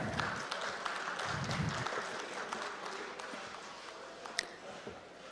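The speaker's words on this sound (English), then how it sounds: "Please give them a round of applause." A conference audience gives faint, scattered applause at a panelist introduction, quiet and distant clapping that thins out over a few seconds.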